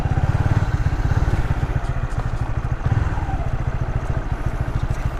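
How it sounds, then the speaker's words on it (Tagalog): A motorcycle engine runs steadily nearby on a solo ride through Cavite and Batangas, with a loud rapid low chugging pulse that holds throughout and slight clatter on top. "Nasok natin yung motor natin."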